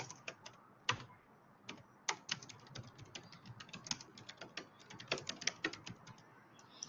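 Quiet, close typing on a computer keyboard, an irregular stream of light clicks and taps with occasional stronger keystrokes, alone without talk.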